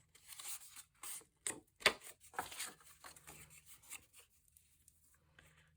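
A scoring tool drawn across paper to crease a half-inch flap on a 3.25-inch strip for a desk folio, soft close rubbing and scraping strokes in short irregular bursts, with a faint hum underneath.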